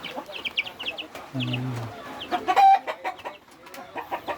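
Chickens clucking in a backyard coop, with repeated short clucks and a longer call up close, heard around quiet background talk.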